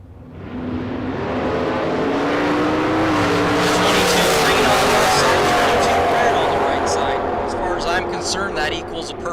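A 1971 Chevrolet Nova and a 1968 Chevrolet Camaro launch side by side at a drag strip. The engines roar loud and close, swelling over several seconds before fading as the cars pull away, with an announcer's voice underneath.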